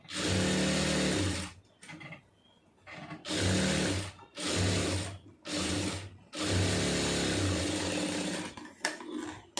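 A sewing machine stitching fabric in several runs, each a loud rapid mechanical clatter lasting one to two seconds, separated by short pauses as the cloth is turned.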